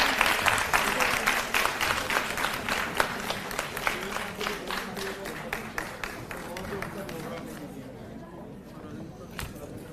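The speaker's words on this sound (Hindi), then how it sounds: "जोरदार तालियों से एक बार स्वागत कर लीजिए।" Audience applause welcoming guests onto the stage at a Delhi government annual awards ceremony, dense steady clapping throughout that thins and fades toward the end, with a voice over it.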